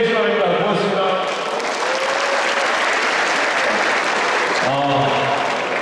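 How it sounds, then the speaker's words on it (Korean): Loud sustained applause fills the opening ceremony of a Gyeonggi Province tennis tournament, a dense crowd clapping close by for several seconds, with voices talking over it at the start and end. "지금 박수 하셨는데요"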